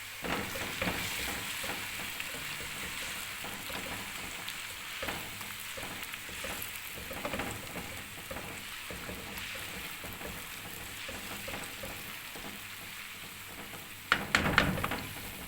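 Chopped onion fries in hot oil in a pan for mutton karahi, a steady, close sizzle with occasional stirring scrapes, ending in a louder burst of crackling.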